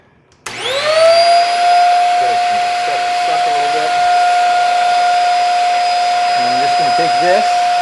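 Vacuum cleaner switching on abruptly to clean under a refrigerator, a loud steady high-pitched motor whine and airy roar that holds for several seconds, with faint voice sounds underneath.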